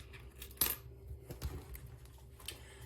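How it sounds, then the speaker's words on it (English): Loose coins clatter into a coin jar in one sharp, close metallic burst, followed by a few fainter clinks and small handling sounds in a quiet room. "so this will be going in my coin jar"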